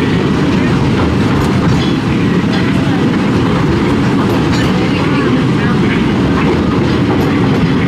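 Big Thunder Mountain roller coaster train at Magic Kingdom rumbling and rattling along its track, a loud, continuous clatter of wheels with steady roaring noise throughout, people's voices faintly mixed in.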